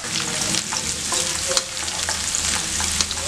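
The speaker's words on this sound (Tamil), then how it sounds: "இப்போ நல்லா எண்ணெயிலேயே நல்லா ஃப்ரை பண்ணிட்டோம்." Chopped onion and garlic cloves fry in oil in a pan, a loud close hiss and crackle under occasional stirring scrapes, with nobody speaking.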